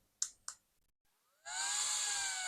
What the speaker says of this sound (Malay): Tekan sekali dekat sini untuk on kipas ni.